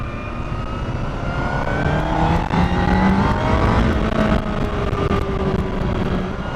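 A motorcycle engine is revved hard again and again, its pitch climbing and falling in loud, continuous surges close by, with no talking.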